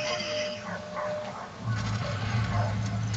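Dogs in a video game bark and yip, their short, sharp calls coming and going at moderate loudness over a busy game soundscape.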